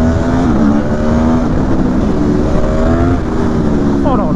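Aprilia Tuono 1100 V4 Factory motorcycle with quickshifter accelerating hard, its engine note climbing in loud rising harmonic sweeps through gear changes, with a voice talking over the roar.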